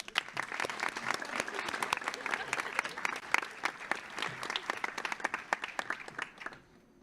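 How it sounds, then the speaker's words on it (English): Applause at a January 2025 National Honor Society induction ceremony as inductee Chloe is honored: a smaller crowd's distinct individual claps, moderately close, that thin out and fade near the end. "So please give a round of applause for Chloe."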